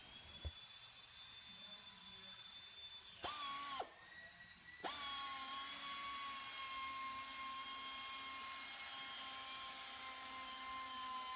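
Car polisher with a blue hybrid wool/foam pad whirring at a steady high pitch, briefly stopping and shifting speed before settling into a continuous loud drone, close up.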